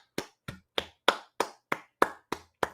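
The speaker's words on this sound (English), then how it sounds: "I'm giving you a round of applause, my man." A single person claps nine times at a steady, slightly quick rhythm during a pro wrestling podcast. Each sharp, close clap stands alone, with no talking.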